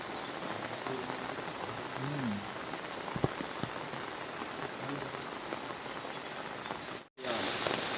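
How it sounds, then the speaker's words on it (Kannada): Heavy rain pours steadily and loudly on a Malnad Diwali night, a dense unbroken hiss of drops on surfaces that continues throughout, with faint voices briefly beneath it near the start. "ನೋಡಿ ಇಲ್ಲಿ ಎಂತ ಮಳೆ ನೋಡಿ"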